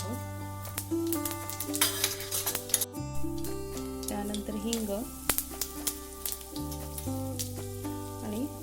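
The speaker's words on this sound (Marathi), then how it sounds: "मोहरी टाकणार आहोत आता आपण यामध्ये जिरे टाकणार" Mustard seeds and cumin crackle and sizzle in hot oil in a home kitchen, a steady spitting fizz running under sustained background music.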